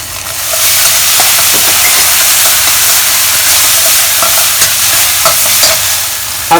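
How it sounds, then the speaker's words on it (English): Spicy broad bean paste (douban) and Chinese hot and spicy sauce fry in a hot pan for mapo tofu, a loud, continuous close sizzle with light stirring scrapes throughout and no voices. "I'm adding in 1 tablespoon of douban or spicy broad bean paste, 1 tablespoon of hot and spicy sauce."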